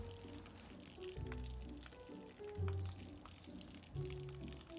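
A tap left running, water pouring and splashing steadily into a sink or basin, fairly quiet, with a few louder gushes and no talking.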